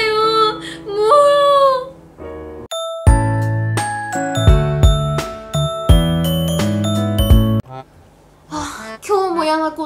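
A phone call's ringtone plays a bright, repeating chiming melody for several seconds, loud and close, with a voice speaking in an emotional tone just before and after it.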